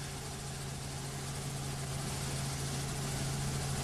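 Steady engine drone, likely the lead motorbike, running near and constant in the closing 800 metres of the 2017 Giro dell'Emilia road cycling race, with no pauses or voices.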